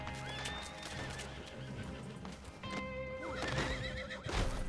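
A horse in Red Dead Online whinnies loudly over rhythmic galloping hoofbeats, with a game soundscape underneath and a louder neigh near the end, close and continuous.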